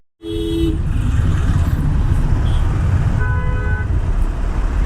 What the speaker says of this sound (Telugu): ఎంత ట్రాఫిక్ చూడండి అసలు.